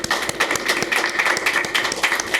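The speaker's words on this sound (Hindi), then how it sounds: "ताली बजाकर एक बार इनका स्वागत करेंगे" An audience at a yagya gathering claps to welcome a guest, a short burst of dense, steady applause from many hands at moderate distance.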